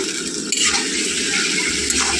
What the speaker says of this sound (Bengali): আর মশলাটা একটু কষে নিয়ে